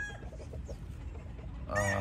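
A gamefowl rooster clucks in short bursts, then lets out a loud, close crow near the end.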